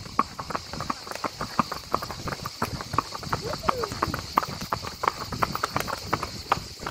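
Horse hooves clip-clop in a steady rhythm on a road during a forest and river ride, close and moderately loud, with a few rattling clicks mixed in.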